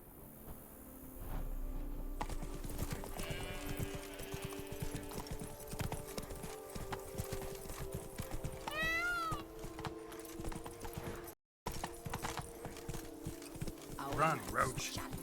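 The horse Roach gallops in The Witcher 3: Wild Hunt, set in Toussaint, a steady drumming of clip-clop hoofbeats that runs through the whole stretch over a game soundtrack and ambience.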